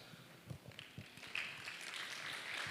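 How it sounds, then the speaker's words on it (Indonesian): Children at a road safety outreach event in Klaten break into applause, a faint, distant wash of many clapping hands that starts after a few scattered claps and swells into steady, sustained clapping. "Ditutup dengan tepuk tangan."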